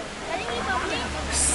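Tegenungan Waterfall in Bali roars with a steady, broadband rush of falling water, close and fairly loud, with a faint hiss that rises near the end.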